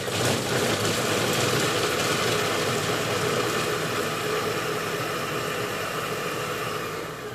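A Mr Cuisine Smart food processor runs steadily, its motor whirring in an even, close hiss-like drone that holds for several seconds and eases off slightly at the end, with no talking.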